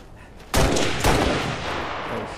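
Two sharp, loud sniper rifle shots crack out about half a second apart in a free-roam deathmatch game, each one booming and then rolling off into a long echoing tail.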